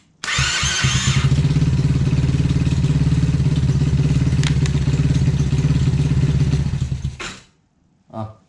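A quad bike engine cranks over, catches and runs with a steady, loud mid-pitched chug and rattle for several seconds, then dies abruptly into silence, followed by a short faint clunk.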